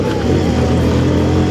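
A motorbike engine runs loud and steady throughout, a continuous close rumble with no clear gaps, while riders move along together in a group.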